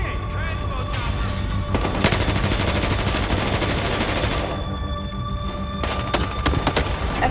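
Gunfire in the Battlefield Hardline multiplayer game rings out in rapid automatic bursts, with single shots and thuds mixed in. It is loud and close over constant game background noise.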